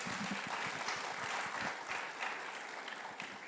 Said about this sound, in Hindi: इस पे तो तालियां होनी चाहिए।